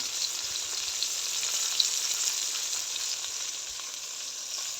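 Pieces of rohu fish fry in hot oil, giving a steady, even sizzling hiss at moderate volume with no voices.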